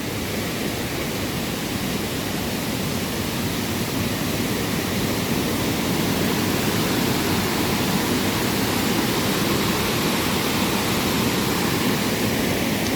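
A waterfall in Chiang Mai, Thailand pours with a dense, unbroken roar of rushing water, loud and steady from beginning to end with no voices.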